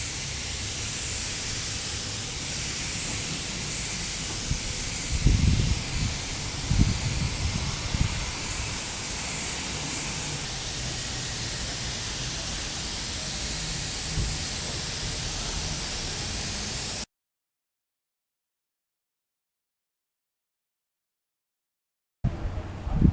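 Spray gun applying a final coat of gold paint to Kawasaki Ninja motorcycle parts during a restoration, a steady close hiss running unbroken for about seventeen seconds with a few brief bumps, then silence and a short return of sound at the end.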